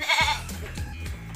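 Senduro and PE Kaligesing goats bleating in a brief, close, fairly loud call, with a harmonic wavering cry followed by softer rhythmic pulses.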